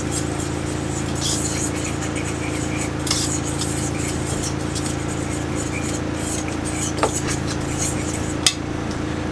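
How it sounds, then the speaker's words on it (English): A utensil scrapes and clinks faintly against a bowl while a large egg is stirred for a wild blackberry cobbler, soft scraping over a steady hum with a few sharper taps. "Now let's stir that up first."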